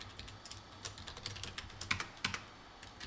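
Soft, irregular keystrokes on a computer keyboard while entering text into a Hangul word-processor document, a steady run of close clicks with a few louder taps and no voices.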